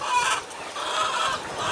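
Chickens cluck in a backyard chicken yard, a steady chorus of overlapping clucks and chatter at moderate distance, with no talking.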